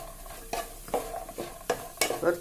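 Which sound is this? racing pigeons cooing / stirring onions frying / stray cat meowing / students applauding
stirring onions frying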